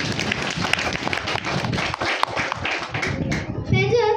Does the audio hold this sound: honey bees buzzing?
no